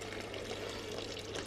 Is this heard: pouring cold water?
yes